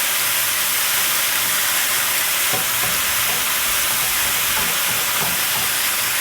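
Ground meat such as turkey or beef cooking in a pan for a cheeseburger salad, a steady broadband sizzle and hiss with faint stirring scrapes, continuous and fairly close, no voices.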